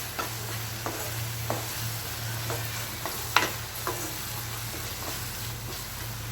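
Masala with chilli and turmeric powder fries in a pan for a snake gourd khurma, giving a steady sizzle with regular scraping strokes of stirring and no talk.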